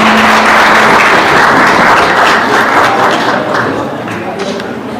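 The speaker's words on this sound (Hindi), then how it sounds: "जोरदार तालियां हमारे लिए।" Applause rises from the audience at a college annual function for a student who won a bronze medal at a national sports competition, strong at first and then gradually tapering off, with voices mixed into the clapping.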